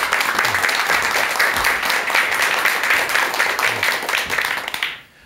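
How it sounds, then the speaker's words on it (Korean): Audience applause filling a hall at a Korean lecture on social anxiety, a dense steady clapping from many hands that holds loud for about five seconds, then fades out quickly at the end. "큰 박수와 함께 박사님의 강의 청해 듣도록 하겠습니다"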